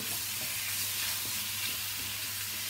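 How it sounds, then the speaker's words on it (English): Chicken sizzles and crackles steadily in a hot wok, a dense, even frying hiss with no talking. "You can now put your chicken in. You are flash frying your chicken"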